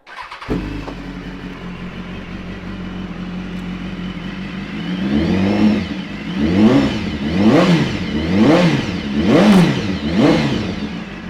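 A 2015 BMW S1000RR sport bike with an Akrapovic exhaust fires up with a sharp start, settles into a steady idle, then gives a series of four or five loud, rising and falling throttle blips close by.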